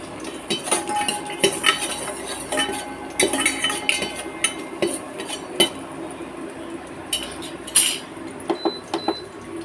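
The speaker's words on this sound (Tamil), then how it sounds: "இப்போ நம்ம பூண்டு போட்டுக்கலாம். நல்லா கொஞ்சம் வதங்கட்டும்." Garlic cooks in hot ghee in a pan as part of a chicken soup, with a quiet sizzle under frequent clinks and scrapes of a utensil against the pan, close and steady with no voices.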